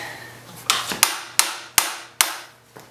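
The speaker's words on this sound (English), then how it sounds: "So it can be done with an adjustable crescent and a hammer." A hammer strikes an adjustable crescent wrench set on an aluminum fork nut of a Yamaha FZ6 motorcycle, five sharp metallic hits spaced about a third of a second apart, close and loud with nothing else around them.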